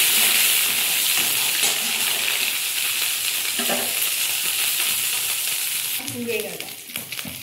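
Turmeric and chili powder frying in a pan for doi potol, a steady loud sizzle with a brief stirring scrape near the end.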